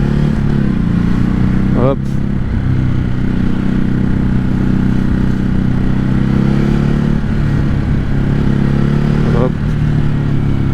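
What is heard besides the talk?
Ducati Hypermotard RVE motorcycle engine with quickshifter gear changes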